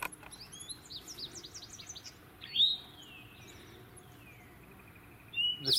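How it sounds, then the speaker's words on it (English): Several male birds sing during breeding season in a sanctuary from a moderate distance: a run of quick, high chirping notes, then a long descending whistle, with another call at the end. "The sanctuary is filled with the songs of males claiming a territory and attempting to attract females."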